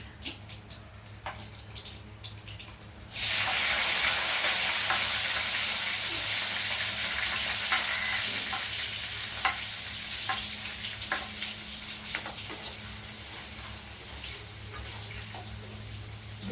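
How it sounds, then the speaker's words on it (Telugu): Carrot and green chilies drop into hot oil in a pan over a high flame, where the tempering seeds have already fried. A loud, steady sizzle bursts in suddenly and then crackles on continuously, close up, with no talking. "ఫ్రై అవుతున్నప్పుడు క్యారెట్, పచ్చిమిర్చి వేసుకున్నాం."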